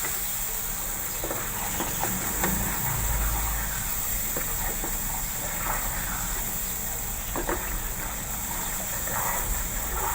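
Masala for pakora curry fries in a pan with a steady, soft sizzle and hiss. Faint scattered crackles and pops rise from the simmering spice paste, and low kitchen rumble sits underneath.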